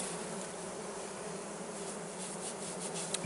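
Wild honeybees humming steadily inside a Layens hive, a soft, even, continuous buzz with no voices.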